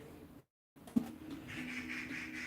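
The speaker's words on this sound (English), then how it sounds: "Oh my gosh, this bird." A bird calls outside an open window, with a sharp close note near the start and a steady, thin chirping that carries through the rest, fairly faint and near.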